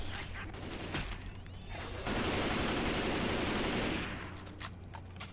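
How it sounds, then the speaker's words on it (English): Sustained automatic gunfire from shooting in Left 4 Dead, loud and continuous through the middle, with scattered single shots before and after. "Turn around and shoot behind us."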